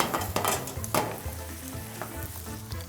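Korean-style aglio e olio pasta is stir-fried in a hot pan. It sizzles loudly and continuously, with clattering stirring strokes and utensil scrapes and no talking.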